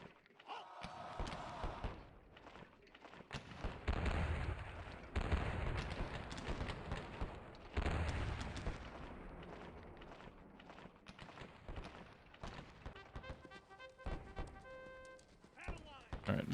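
Artillery fire in Sid Meier's Civil War Collection at Crampton's Gap: deep booms land around the middle of the clip amid steady battle noise, with hoofbeats and voices mixed in.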